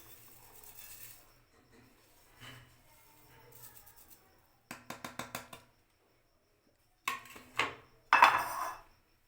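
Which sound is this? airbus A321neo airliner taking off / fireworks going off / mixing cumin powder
mixing cumin powder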